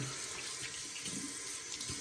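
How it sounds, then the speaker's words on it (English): A tap runs into a sink in a bathroom while wetting the face before a wet shave, a soft continuous splashing stream, close and alone. "let me get some water on the face"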